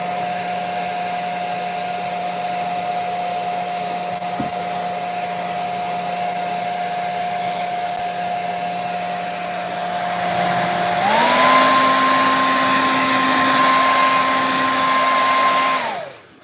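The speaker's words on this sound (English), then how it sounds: "So I'm just grabbing my hairdryer" A hair dryer blows steadily up close to dry a wet woodland painting, its whine shifting higher and louder partway through before cutting off abruptly at the end.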